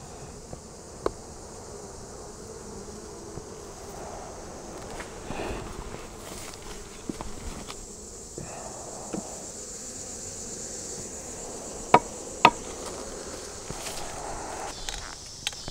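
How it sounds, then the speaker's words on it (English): Honeybees released after a hive treatment buzz faintly around the hives in the fall, a soft, steady hum with a few sharp knocks and clicks scattered through. "when you release the bees, they are pissed off."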